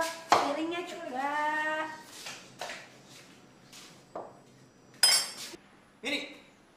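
Dishes, pots and pans clatter during home cooking, with sharp clinks and knocks of cutlery and utensils spread across the clip, close and fairly loud, mixed with a few voiced tonal sounds.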